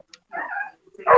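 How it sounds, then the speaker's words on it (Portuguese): A dog barking somewhere off in a house, a short yelp followed by a louder bark, brief and somewhat distant. "tem um cachorro latindo em algum lugar aí"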